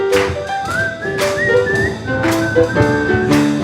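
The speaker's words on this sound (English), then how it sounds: "Just burst your lips and whistle, that's the thing." A melodic whistled tune from a song, clear and close, with phrases of sliding notes over a musical accompaniment of rhythmic beats, no voices.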